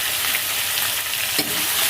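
Capsicum and onion stir-fried in a hot pan for chili chicken, giving a steady close sizzle with a brief clatter of stirring near the middle, no voices.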